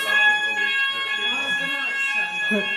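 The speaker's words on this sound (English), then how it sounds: "So yeah, the fire alarm's gone off" A fire alarm rings with a steady, high electronic tone throughout at the Drayton Manor theme park while people talk over it.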